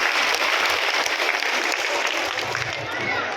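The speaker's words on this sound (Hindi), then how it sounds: "जोरदार तालियों से प्रशांत किशोर साहब का इस्तकबाल कीजिए" A crowd applauds loudly at a Jan Suraaj political camp to welcome Prashant Kishor, the clapping sustained and close throughout, with a voice heard faintly beneath it.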